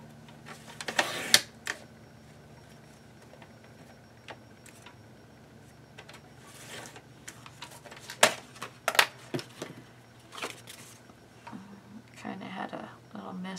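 A paper cutter trims paper for a Christmas scrapbook craft page, making sharp clicks and slicing clunks in short clusters against a quiet room, with a voice speaking briefly now and then.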